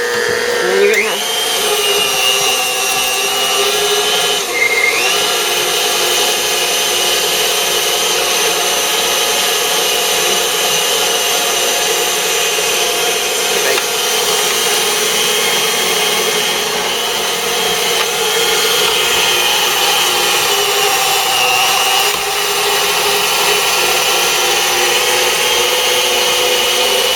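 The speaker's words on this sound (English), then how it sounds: "once I have the grinder going, then I just take my pieces and I just stick them right down" An electric meat grinder runs continuously, a loud steady motor whine with shifting pitch as turkey pieces are pushed through, sustained close to the microphone throughout.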